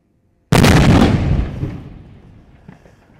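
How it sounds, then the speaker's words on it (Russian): A tank cannon fires once during an artillery raid near Avdiivka, a single loud, sharp boom that rolls out into a long fading rumble over about two seconds. "Два танка совершают огневой налет."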